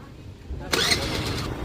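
A Honda Activa scooter engine starts with a sudden burst and settles into a steady running sound, recorded close by.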